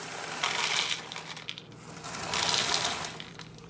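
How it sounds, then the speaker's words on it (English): Dry breakfast cereal poured into a bowl on a kitchen scale, giving two loose rattling bursts of flakes tumbling and clattering, close and moderately loud, with a brief pause between pours and no talking. "I'm about to pour the cereal to 27 grams"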